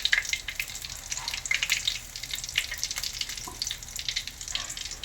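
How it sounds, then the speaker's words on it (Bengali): Cardamom and cinnamon spluttering in hot oil for tempering, a busy, close sizzle full of rapid pops and crackles that keeps going steadily throughout. "এলাচ আর দারচিনি ফোড়নে আমি দিলাম"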